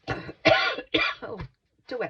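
A person coughs several times in short harsh bursts, close and fairly loud, with brief pauses between them, during a craft-supply reveal.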